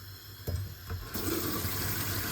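Cold water from a tap pours steadily into a household sink drain with sluggish plumbing, starting with a few splashy bursts and then settling into a continuous close rushing flow.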